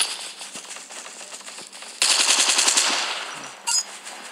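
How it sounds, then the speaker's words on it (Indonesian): Automatic gunfire in Call of Duty Mobile rattles in rapid bursts, a lighter stream of shots giving way to a louder dense volley, then a short final burst, close and aggressive with no talking. "Coba gua nembak teman gua dulu bentar."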